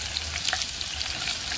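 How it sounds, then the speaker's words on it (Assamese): Onions fry in a hot wok with a brief, close crackling sizzle and light stirring scrapes, quiet and with no talking. "মই কেৰাহীটো গৰম হৈ গ'ল বহুত তাত মই পিঁয়াজ ঢালি দিছোঁ"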